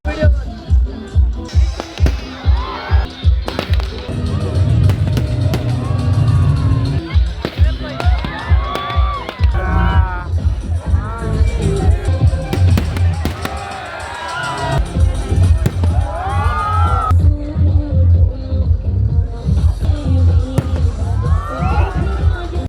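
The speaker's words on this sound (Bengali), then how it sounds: "তারপর শুরু হয়ে গেল আমাদের আতশবাজি।" Fireworks burst at the opening of the Dinajpur trade fair in 2025, with rapid loud bangs and crackles in repeated volleys while a large crowd cheers, shouts and chatters throughout.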